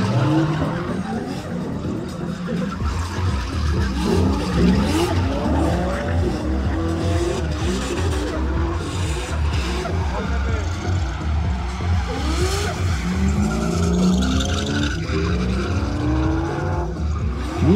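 A Nissan Skyline and an Opel GT drift side by side at a Kraków motor show, with loud, continuous tire squeal and skidding over roaring, revving engines for the whole stretch.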